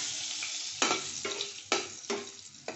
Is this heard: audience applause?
no